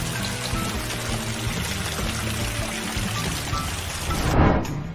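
Water scooped with buckets and tipped off a balcony during a heavy downpour, a steady rushing pour with a louder splash surging near the end.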